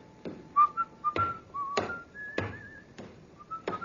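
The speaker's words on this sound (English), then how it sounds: "that fella there, whistling" A man whistles a wandering tune, short sliding notes separated by sharp knocks or footsteps, fairly close and clear.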